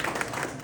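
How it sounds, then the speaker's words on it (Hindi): Loud applause from an audience at a film event, a dense burst of many hands clapping at once, brief and steady with no voices over it. "जोरदार तालियां"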